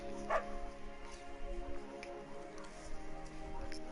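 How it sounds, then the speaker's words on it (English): A beagle named Bucket gives a brief, nearby bark in the video game Firewatch, with a soft tonal music bed sustained underneath. "Beagle!"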